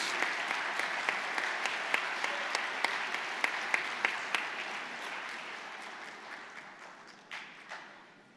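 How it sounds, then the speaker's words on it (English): Audience applause at a university college of pharmacy spring graduation convocation, a steady round of many hands clapping with sharp individual claps standing out near the start, holding for several seconds before thinning out. "A brief round of applause, please."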